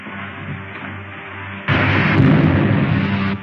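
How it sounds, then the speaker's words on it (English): A sci-fi spaceship blast effect from a 1953 B movie: a steady roaring hum suddenly breaks into a loud, broad explosive burst that rumbles on for a couple of seconds. "Fire a blast into the tail service as I level out."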